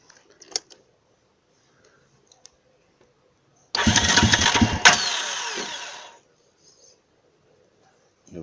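A 2009 TGB 550 quad engine, freshly reassembled after clutch and variator service, cranks and fires abruptly, then revs loudly for about two seconds before fading out, with quiet, near-silent stretches before and after.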